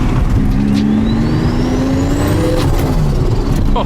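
Toyota Supra fitted with a V12 engine, heard from a ride along as a loud, continuous engine note rising steadily in pitch under acceleration, with no talking over it.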